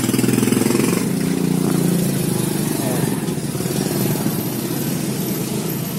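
A Kawasaki Barako motorcycle engine runs close by at a steady idle, its rough mechanical clatter and knock from a worn idle gear bushing continuing for several seconds.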